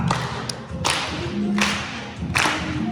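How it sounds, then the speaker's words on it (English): People in an exercise routine clap in unison, four sharp, evenly spaced claps about three-quarters of a second apart over a dull, continuous background murmur. "And clap."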